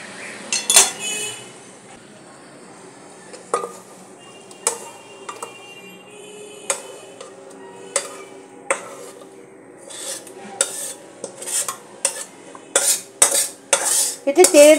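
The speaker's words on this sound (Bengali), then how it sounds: "এবার এই অবস্থায় আমি কুকারে ঢেলে দিচ্ছি" Mutton for a pork-style chatni being tipped into a pressure cooker: a string of metallic clinks and scrapes of utensil on metal, sparse at first, then quicker and denser near the end, close by with no talk.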